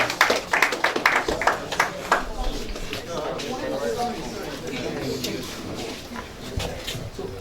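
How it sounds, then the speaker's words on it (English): Audience clapping at a robotics competition grand finale, a brisk cluster of close claps at the start that thins into scattered taps under an announcer's voice and hall noise. "Let's not forget to give a round of applause."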